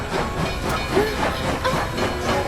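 Steady hissing rumble of a train drawing near, continuous and fairly loud, with faint high squeals over the churning noise.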